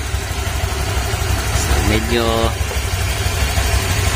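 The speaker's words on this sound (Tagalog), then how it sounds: "ito na yung tunog ng ating Honda Click 160" A Honda Click 160 motor scooter engine idles steadily up close after CVT cleaning, a constant low putter, while a voice speaks briefly over it.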